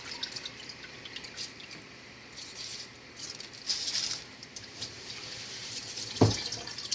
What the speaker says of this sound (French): une fois que l'eau est bouillie, je lave mon riz